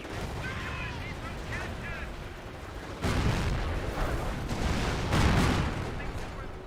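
Booming artillery fire and explosions in a Company of Heroes battle, heavy thuds breaking over a rumbling wartime din, with a louder surge of blasts midway and scattered crackle of smaller arms.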